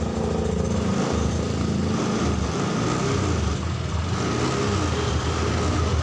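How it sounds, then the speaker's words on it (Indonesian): A Honda Scoopy keyless motor scooter engine idles close by with a steady, throaty putter, running continuously without revving, despite a weak, draining battery. "ini seharusnya motor bisa hidup."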